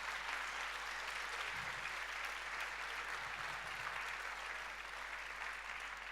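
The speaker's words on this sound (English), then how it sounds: "Give yourself a big round of applause." Steady, sustained applause from a conference audience at a global competence event, many hands clapping evenly at a moderate distance, with no talking over it.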